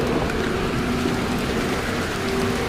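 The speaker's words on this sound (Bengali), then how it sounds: "কয়েক মুহূর্তেই বাজ পড়ার সাথে সাথে তুমুল বৃষ্টি শুরু হলো।" Heavy storm rain pours in a dense, steady hiss that never lets up, loud and close with no voices.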